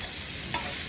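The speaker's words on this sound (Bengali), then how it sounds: "আলু ভাজাটা হচ্ছে" Potatoes frying in a pan give a steady, even sizzle with one brief stirring scrape partway through. Nobody speaks.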